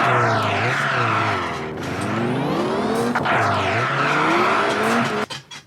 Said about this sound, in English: Before the corner, turn hard into it and give the handbrake a quick pull.